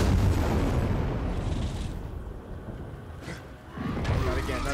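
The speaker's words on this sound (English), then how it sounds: "Here, have a grenade." A grenade blast in Dying Light 2, a deep rumbling boom that swells and decays with low roar, followed by a second rumble near the end, with no clear speech over it.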